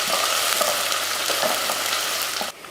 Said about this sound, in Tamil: ஒரு 100 கிராம் அளவுக்கு சின்ன வெங்காயம் நல்லா பொன்னிறமாக வதக்கிக்கலாம்.